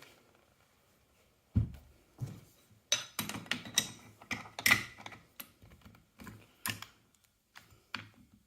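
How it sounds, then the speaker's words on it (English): Metal clicks and scraping taps from a wrench tightening the castle nut on a KWA T10 airsoft gun, coming as an uneven run of sharp, close knocks after a quiet start. "I'm just going to tighten this castle nut down."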